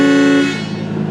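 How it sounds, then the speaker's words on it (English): A custom train horn fitted to a 2016 Lamborghini Huracán lets out one loud, close blast lasting about half a second. It stops abruptly, leaving a brief ringing decay. "train horn, which is definitely a necessity if you're driving a Lamborghini"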